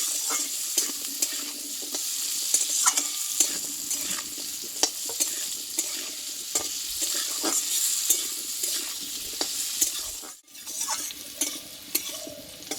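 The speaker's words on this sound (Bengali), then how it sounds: "আলুটা আমি একটু কষিয়ে নেব" Salted potatoes are sautéed in a pan, sizzling loudly and continuously while a utensil stirs and scrapes them in a quick, repeated rhythm, close up with no talk.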